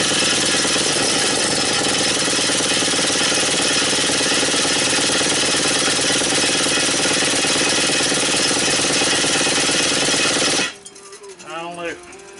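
A McCulloch Super Pro 80 chainsaw engine is cranked over by a power drill, a loud rapid chattering drone that runs steadily and then cuts off abruptly near the end.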